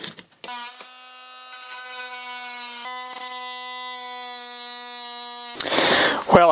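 An oscillating multi-tool cuts into tongue and groove siding on a tiny house wall, giving a steady, loud, high-pitched buzz that holds for about five seconds before a short burst of rough scraping noise.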